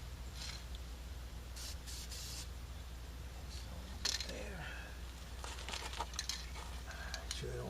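A spray can of self-etching primer sprays short hissing bursts onto the rusty passenger-side door of a van during rust repair. Several separate sprays stand out over a steady low background hum, with no talking.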